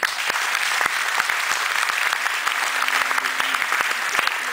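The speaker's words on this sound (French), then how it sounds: "je demanderai déjà de vous applaudir" An audience applauds steadily, many hands clapping in a dense, sustained patter that stays loud throughout.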